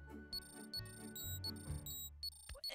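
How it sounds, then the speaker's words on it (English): Microwave beeping in an animated VeggieTales scene: short, high, evenly repeated electronic beeps over a low, sustained musical background. "There's that beeping again."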